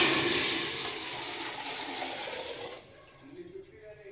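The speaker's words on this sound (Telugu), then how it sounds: "ఇప్పుడు వాటర్ అనేది మనం యాడ్ చేసుకుందాం" Water pours steadily into a cooking pot for paneer dum biryani rice, a continuous splashing rush that stops near the end, leaving quieter kitchen sounds.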